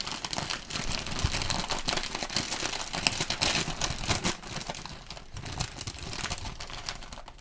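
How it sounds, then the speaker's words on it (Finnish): Bag of potato chips being opened, a continuous close crinkling and rustling of plastic packaging lasting several seconds with no talk. "Sitä ennen mä avaan tän sipsipussin."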